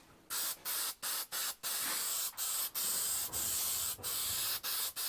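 Aerosol spray can coating the underside of foam pieces during an International 1110 pickup truck interior build: a series of close, loud hissing bursts, some short and some sustained, separated by brief pauses.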